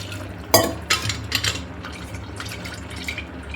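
Water splashes into a pot of Maharashtrian chicken curry in a home kitchen, a few sharp pours and drips in the first couple of seconds, then quieter trickling and stirring noises.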